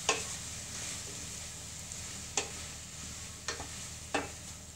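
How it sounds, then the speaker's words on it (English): Butter beans and risotto stirred in a pan, with a steady low sizzle and a few sharp scrapes of the spoon against the pan at spaced intervals, close and moderately quiet, no voices. "So give that a bit of a stir."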